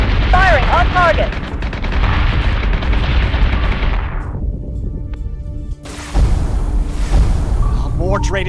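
Ship cannons firing in the space combat game Battlestar Galactica Deadlock, a dense, loud barrage of booming gunfire and explosions rolling continuously, with a brief lull before heavy blasts resume.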